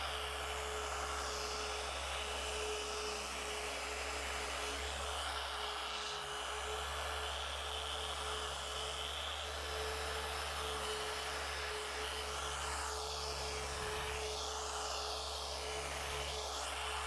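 A car paint polisher running with Malco medium compound on an Oberk polishing pad, outdoors in heat and direct sunlight: a continuous close, loud whirring motor drone with slight pitch wavering and no pauses.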